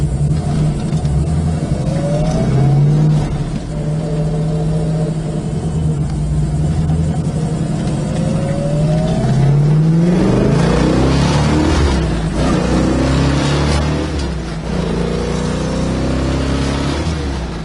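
A 1970 Dodge Challenger with a 446 engine and carburetors accelerates hard through the gears, its loud rumbling exhaust rising in pitch with each pull and dropping at the shifts, heard close from inside the car with no talking.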